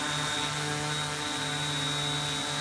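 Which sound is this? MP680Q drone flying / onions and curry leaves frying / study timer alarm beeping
MP680Q drone flying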